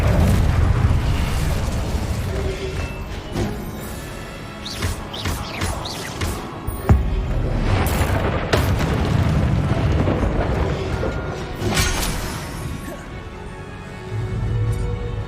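Confringo fire spells in Hogwarts Legacy go off as repeated booming blasts and crackling bursts across a busy, rumbling combat scene, close and steady with irregular spacing.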